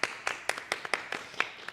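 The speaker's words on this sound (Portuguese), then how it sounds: "uma salva de palmas para esses meninos" Hands clap in an even rhythm, about eight crisp claps in under two seconds, for young performers at a church event, close and fairly quiet.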